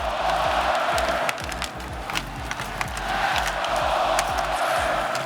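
A packed hockey crowd in Rogers Arena roars and cheers at very high volume, sustained whooping and yelling with scattered claps and a heavy low rumble throughout.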